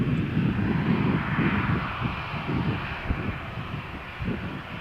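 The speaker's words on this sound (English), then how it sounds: "This is a Ryanair Boeing 737-8 AS." A Ryanair Boeing 737-8 jet takes off from Malaga Airport on a stormy morning, a loud, sustained engine roar with rumbling low end, steady and fairly close throughout, with no talking.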